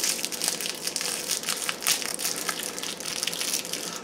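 A milk candy wrapper is unwrapped up close with continuous loud crinkling and crackling of plastic, no speech over it.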